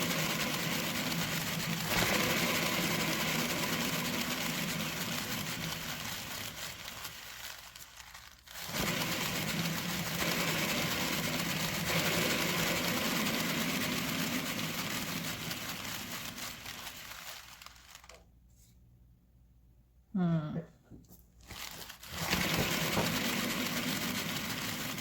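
A spinner machine whirring steadily while spinning for a paint bloom technique, a loud continuous motor drone. It briefly drops out midway, stops and restarts near the end, then spins up again.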